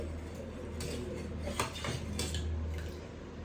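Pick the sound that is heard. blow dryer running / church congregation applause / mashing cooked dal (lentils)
mashing cooked dal (lentils)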